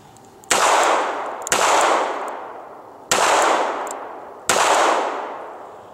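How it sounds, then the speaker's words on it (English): Loud, reverberant gunshots from a small pistol such as a Ruger LCP fired through a jacket pocket, about four sharp cracks at uneven intervals, each trailing off in a long echoing decay outdoors. "Fired five shots."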